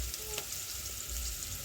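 Tomato scrambled eggs fry in a pan with a steady, close sizzle throughout, a couple of light utensil scrapes breaking through.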